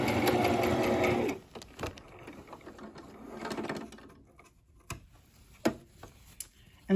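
A sewing machine stitching fabric ruffles, running in a steady continuous whir, then stopping short and back stitching in brief bursts, followed by quiet handling noises.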